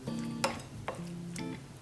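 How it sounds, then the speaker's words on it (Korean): Garlic is stirred into hot cherry tomatoes in a pan, and a utensil scrapes and taps the cookware in a few distinct, close strokes with no one talking. "토마토가 뜨거울 때 마늘을 넣고 뒤적여 주세요"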